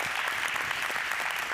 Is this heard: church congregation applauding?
yes